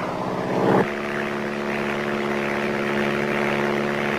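Small propeller planes droning steadily over rainforest, a constant engine hum with a brief louder swell near the start, heard with no talk.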